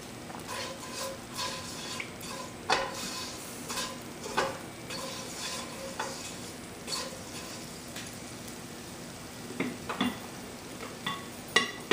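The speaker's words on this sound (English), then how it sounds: "I'm going to go ahead and add my cumin seeds in there." Cumin seeds sizzle in hot oil in a pan, a soft steady frying hiss broken by scattered clinks and scrapes of a spoon stirring against the pan, with no talking.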